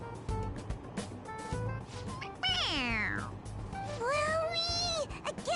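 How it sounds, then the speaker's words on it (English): A toy cat meows when its head is pressed, giving two loud electronic meows with falling then sustained pitch, close by, amid background chatter. "It meows when you press on its head."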